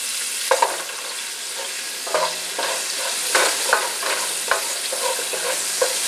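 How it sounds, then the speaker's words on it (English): Onions frying in a pan while cooking chicken adobo, a steady close sizzle with intermittent scraping stirs and clinks of a utensil throughout, no talking. "go ahead and add the onions in here. So let's go ahead and have that fried up"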